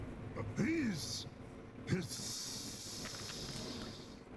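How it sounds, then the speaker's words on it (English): A snake in The Witcher 3 video game gives a couple of brief hisses amid steady game ambience and background noise, with faint speech-like sounds around them. "So it was a snake."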